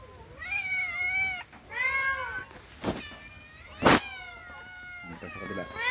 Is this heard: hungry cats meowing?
yes